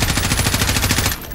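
An M4 rifle fires in the video game Modern Warfare: a loud, rapid, unbroken automatic burst that cuts off near the end, leaving a softer tail.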